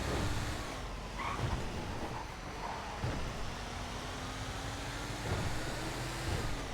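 A truck in Grand Theft Auto drives on a road toward a police barricade, its engine a steady low rumble throughout with a faint rising tone, mid-distance and fairly loud, no voices.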